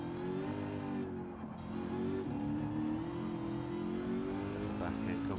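Race car engine in Gran Turismo 7 drones steadily throughout, a loud sustained mid-pitched hum with slight rises in revs, no pauses.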